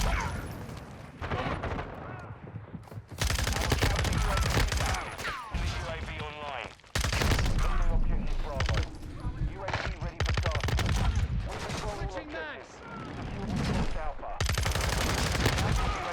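Rapid bursts of automatic gunfire from the FSS Hurricane in Modern Warfare 2 crackle loudly and almost without a break, with explosions mixed in, while a player talks over the shooting.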